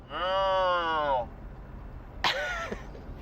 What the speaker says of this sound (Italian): Mumu fa la mucca Carolina che vive felice nella fattoria